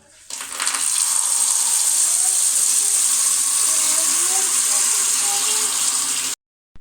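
Hot water poured into a container for making a grated white soap cleaning solution for wiping a sofa, a steady close splashing and running stream lasting several seconds before stopping abruptly.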